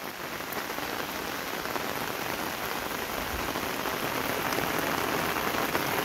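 Summer monsoon rain falls steadily over rice paddies and a flowering hillside garden, a dense, even hiss of drops hitting surfaces that holds at the same loudness throughout.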